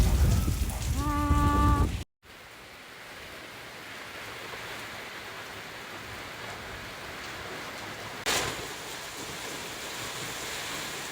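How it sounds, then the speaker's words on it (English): Steady rain falls outdoors over a garden in a continuous broadband hiss, with a brief voiced burst and a hard cut near the start and a short louder gust of spatter later on. "with rain slapping against my face."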